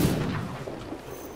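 A ship's cannon fires in the pirate video game Sea of Thieves, a single booming blast at the start that decays into a rumbling tail.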